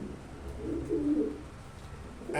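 A Kalanka pigeon gives a low, soft coo close by, a single brief rolling call over faint background noise.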